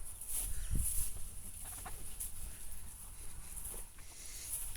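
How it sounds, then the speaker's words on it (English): Chickens and young pullets in a pen cluck softly in the background among faint rustling and patter, with a high steady whine running over the whole scene. "I have another pen of chickens here."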